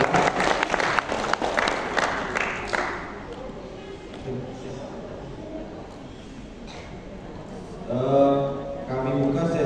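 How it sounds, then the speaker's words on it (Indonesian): Audience applause fills a seminar room at a Bawaslu Riau provincial staff presentation, a dense burst of clapping for about three seconds that thins out, before a voice begins speaking near the end. "Memberikan tepuk tangan yang mulia untuk"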